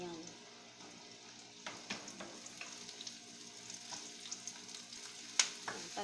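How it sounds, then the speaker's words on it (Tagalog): Chopped onion sizzles in hot oil in a pan for chicken chop suey, a soft steady crackle broken by scraping stirs and a few sharp clinks of utensil on metal, quiet and close. "Tapos ilagay po natin yung ating onion."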